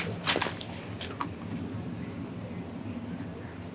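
A taser fires during a police confrontation, heard as a couple of sharp, faint snapping cracks in quick succession over a dull low background rumble.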